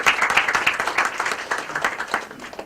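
An audience at a training and development congress panel in India applauds a panelist, a short burst of dense, steady clapping from a crowd, moderately close and sustained throughout.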